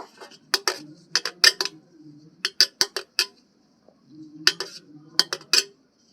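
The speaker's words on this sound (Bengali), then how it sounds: "এখন ভালো করে থালার গায়ে আমি মাখিয়ে নিচ্ছি" Oil being rubbed by hand onto a plate while making mango leather, heard as sharp, close clinks and scrapes against the dish in uneven bursts, with quiet pauses between them.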